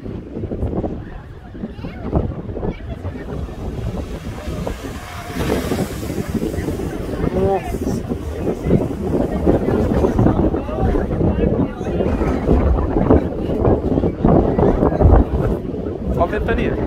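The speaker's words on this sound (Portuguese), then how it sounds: "Olha a ventania." Strong wind gusts across the seashore during a heavy swell, a loud, continuous roar buffeting the microphone, with crashing surf blended into the rushing noise throughout.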